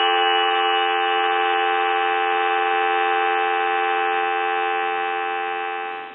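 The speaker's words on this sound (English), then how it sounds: "Now I want to click the hook switch and make dial tone go away." A steady, loud dial tone on an old Kellogg wooden wall crank telephone line under repair hums continuously for several seconds and then cuts off at the end.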